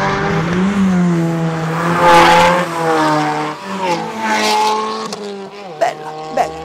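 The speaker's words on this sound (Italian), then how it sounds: "soprattutto c'ha un sound con questo scarico a Krapovic" Fiat 500 Abarth 695 Biposto with an Akrapovič exhaust, the engine note rising and falling through revs in a loud, raspy drone close by, with brief crackles toward the end.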